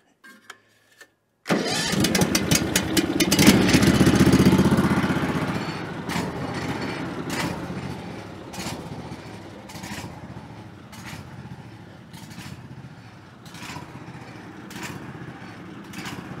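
A small engine on a garden or farm machine cranks briefly, catches and roars up loudly, then settles into a steady close idle that continues alone with a faint rhythmic ticking.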